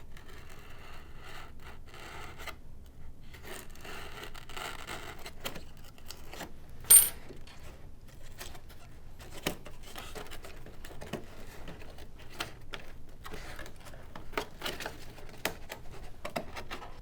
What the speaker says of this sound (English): Just going to cut away a sliver.